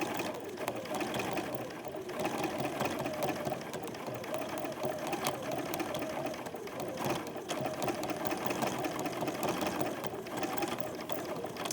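A sewing machine stitches pieces of a Christmas wreath in a continuous, fairly quiet whirring run, its rapid mechanical chatter steady throughout with no talking.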